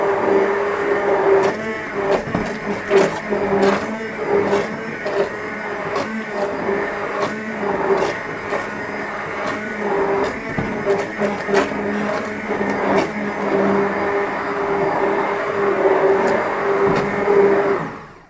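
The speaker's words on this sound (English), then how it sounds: "use the blender to mix the stock cube in" A kitchen blender whirs through carrot soup with a stock cube mixed in, a steady motor drone with rattling, fluttering texture that runs continuously for a long stretch and then cuts off.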